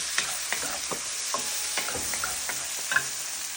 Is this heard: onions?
yes